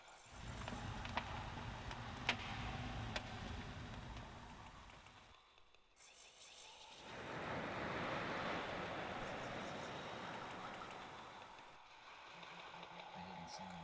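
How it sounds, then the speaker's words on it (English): Wind in the video game Dark Fall: The Journal, a soft rushing gust that swells and fades over several seconds, preceded by quieter ambient noise, faint overall. "It's wind."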